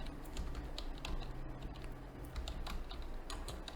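Quick, light clicks of typing code on a computer keyboard during C# programming, a steady patter of keystrokes close by and fairly soft, with no talk.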